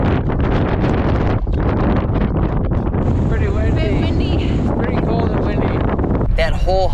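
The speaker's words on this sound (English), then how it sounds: "once we got up to that ridge line, it was like just a wind tunnel of freezing cold air blasting us" Freezing wind blasts a mountain ridge line on a Colorado 14er hike, a loud, constant roar buffeting the microphone throughout, with faint whistling tones rising through it.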